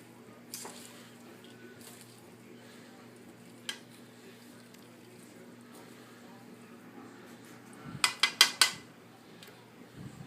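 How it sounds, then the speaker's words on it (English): Salad dressing being whisked in a bowl after a cup of oil is added: a quiet hum, then a short burst of quick clinking, scraping strokes near the end. "For your dressing, you want to add 1 cup of oil. Continue to mix."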